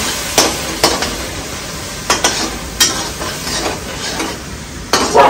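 Tomato puree stirred into fried masala in a pan for dhaba-style palak paneer, with a steady close sizzle broken by several sharp, irregular scrapes of the spoon against the pan.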